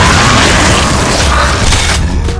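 A Lancer assault rifle from Gears of War 2 booms with heavy, punchy, continuous weapon fire, loud and dense from start to finish.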